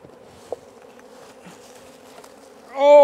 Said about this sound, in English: Lots of bees down there.